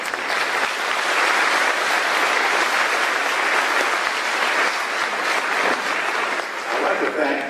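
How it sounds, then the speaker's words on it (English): Sustained applause from a high school graduation audience, a dense, even roar of many hands clapping across the whole stretch, loud and full, with faint crowd voices mixed in. "Let's all give them a round of applause,"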